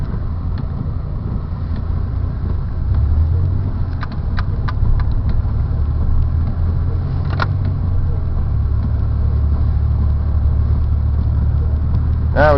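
A car drives on snowy roads during a blizzard, giving a continuous close engine hum and road rumble with occasional small clicks and light talking in the cabin.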